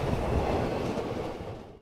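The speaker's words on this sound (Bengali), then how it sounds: "আমাদের ট্রেন এই মুহূর্তে ছেড়ে দিয়েছে হচ্ছে খাগড়াঘাট স্টেশন" A train pulling out of Khagraghat station gives a steady, close, wide rumble for under two seconds, fading slightly at the end.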